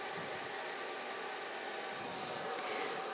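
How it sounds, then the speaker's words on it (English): A hooded hair dryer runs with a steady, even whooshing hum, close and continuous with no talking. "I diffused first with my hooded dryer"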